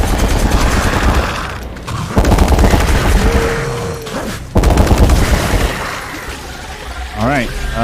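Heavy bursts of automatic gunfire in the horror shooter game Chernobylite, rapid rattling volleys repeating across the clip, loud and close, with brief pauses between bursts and a voice speaking underneath.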